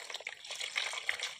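Water splashes and trickles briefly as spider flower leaves are washed by hand, a faint, close sound lasting only a moment.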